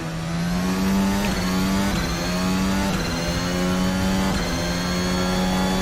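Race car engine in a VR racing game holds a steady high drone with layered harmonics, a few brief dips as the throttle lifts before it climbs again, loud and continuous with no talking.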